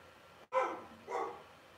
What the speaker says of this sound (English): I think he's just barking at a passing car or something.